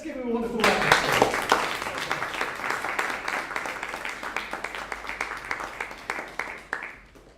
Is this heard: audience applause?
yes